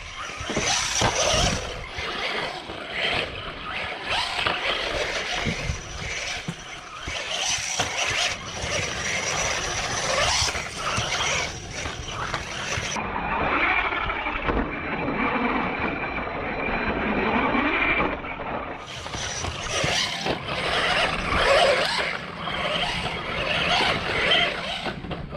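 A JJRC Q130-C Pro budget RC car drives continuously with a steady electric motor whine and rattling chassis noise, rising and dipping with throttle over a long stretch, with no talk.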